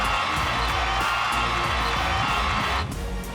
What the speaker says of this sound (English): And listen to this Spartan crowd.